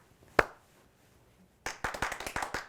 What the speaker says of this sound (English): I said a slow clap.